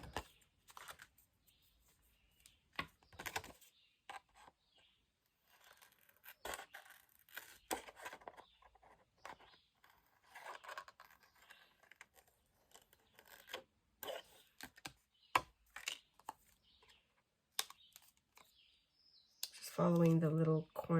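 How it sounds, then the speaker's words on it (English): Scissors cutting out laminated paper pieces for junk journal ephemera: close, crisp snips and crunchy cuts in irregular bursts with quiet pauses, plus a brief louder stretch of other noise at the end. "I'm going to cut these out."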